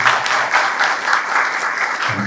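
A crowd claps to welcome an MLA at a campaign gathering, a loud, dense burst of applause sustained throughout.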